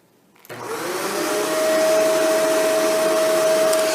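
A Shark Rotator NV752 vacuum cleaner switches on from near silence and settles into a steady, loud motor whine with a constant high tone. It runs on a low pile carpet setting, alone with no voices.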